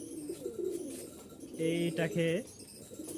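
A pair of homing pigeons coo softly, with a clear burst of rolling coos near the middle and quieter calls around it, while a person speaks briefly over them.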